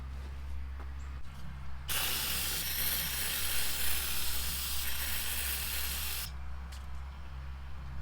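Carb cleaner sprayed from an aerosol can onto stuck screws on a Briggs & Stratton engine's pull-start assembly, one steady loud hiss lasting about four seconds over a low background hum.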